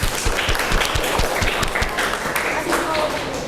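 Junior high classroom applause for a student group after their presentation, rhythmic clapping with quick repeated beats mixed with a wash of clapping and voices chattering underneath.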